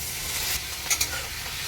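A little water splashing into a sizzling tomato and cumin paste, a steady hiss broken by two quick bright spurts as the liquid hits the hot pan.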